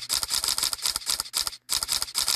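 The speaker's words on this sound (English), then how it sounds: "I'm going to enable the faster shutter option." A Samsung phone camera with its faster shutter option enabled fires a rapid burst of crisp, close shutter clicks in quick succession, with one brief gap near the end before the clicking resumes.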